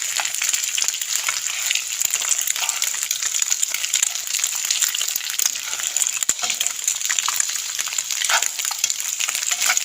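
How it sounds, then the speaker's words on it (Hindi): Eggs frying in a pan over medium heat for an egg paratha, giving a steady, close crackling sizzle with fine popping that runs throughout without pause. "मीडियम आंच पे हम बना लेंगे, फ्राई कर लेंगे अंडे"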